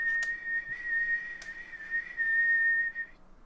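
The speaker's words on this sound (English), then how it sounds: "you hear the high-pitched whistle coming from the kettle" A kettle whistling with a steady, high-pitched tone that holds for about three seconds before cutting off, with a few faint clicks and knocks in the background.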